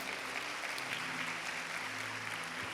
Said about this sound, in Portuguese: Pode dar uma salva de palmas forte.